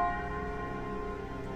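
Church bells ring out from a village bell tower in the afternoon, a dense, sustained wash of overlapping tolls and humming resonance that stays steady and fairly loud throughout, with no voices.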